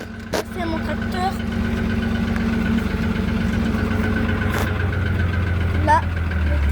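Tractor engine idles steadily with a low, even rumble and vibration throughout, close by, while someone talks over it and brief clanks and knocks come through.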